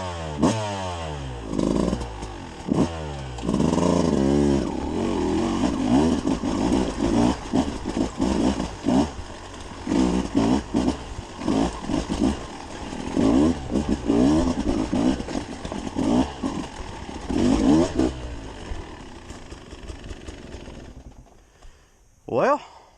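A 2022 Beta 200RR dirt bike revs and bogs through a rocky creek bed, its two-stroke engine rising and falling loudly and close with clattering over the rocks, then cutting off near the end.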